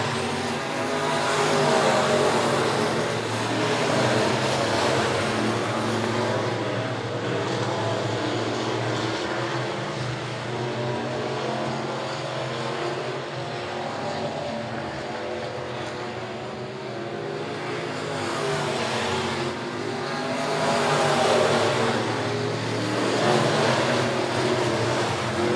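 Race cars roar around Monett Motor Speedway during a heat race, a dense, continuous engine drone swelling and easing as the pack passes, loud and steady throughout with no talk.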